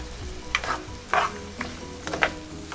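Onions sautéing on medium heat for egg bhujana: a steady close sizzle with intermittent stirring scrapes and clinks of a utensil against the pan, no voices.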